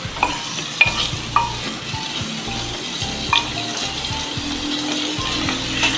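Mutton for traditional kunna gosht fries and is stirred in a pan, with a steady sizzle under repeated rhythmic scraping strokes of a spoon, loud and close, with no talking.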